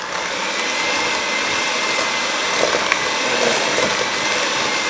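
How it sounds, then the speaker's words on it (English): An electric mixer creams cookie dough for instant pudding chocolate chip cookies, giving a steady, loud whirring drone that holds unchanged for about five seconds and then cuts off abruptly. "now you can break out the electric mixer"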